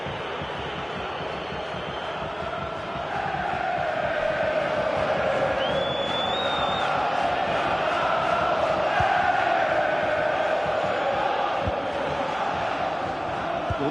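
Stadium crowd roaring in an FC24 football video game match, a broad sustained wash of cheering that swells louder after a few seconds, with a faint whistle-like tone rising briefly in the middle and a commentator talking over it.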